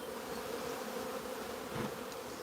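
Honey bees swarm in a dense, steady buzz while being moved from a nuc box into a new hive, the drone holding an even hum with no voices over it.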